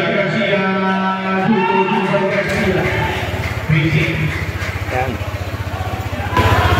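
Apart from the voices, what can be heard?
motorcycle engine started and running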